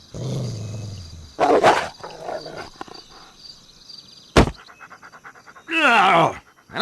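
A dog pants heavily and growls as it is approached in the Xbox game Voodoo Vince, with harsh, bursting growls and breathy panting alternating with a voice speaking in between.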